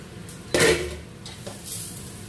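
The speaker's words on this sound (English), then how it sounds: "To prepare my pepper, I'll put my pot on fire." A cooking pot is set down on a stove with one sharp metallic clank, followed by a few lighter knocks and scrapes nearby and no talking.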